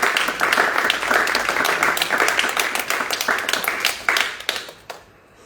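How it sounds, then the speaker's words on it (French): A church congregation at an evening teaching meeting breaks into sustained applause praising the Lord, dense clapping that holds steady, then thins into scattered claps and dies away. "Et nous acclamons le Seigneur pour sa bonne parole ce soir."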